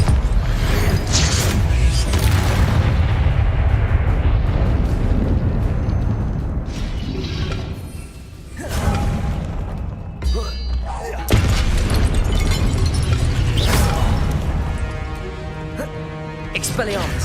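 Confringo blasting-spell explosions in the Hogwarts Legacy video game: repeated loud booming bursts and rumbling impacts with debris crackle, mixed with voices calling out spells over continuous dense combat noise.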